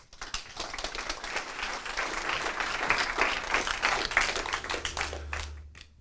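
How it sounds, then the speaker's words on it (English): Audience applause at a HagueTalks event greets the Director of Europol as he takes the stage: dense, steady clapping from a large crowd that holds for several seconds before tapering off, with a low hum emerging near the end. "I'd love for you to give a warm round of applause to the Director of Europol, Rob Wainwright."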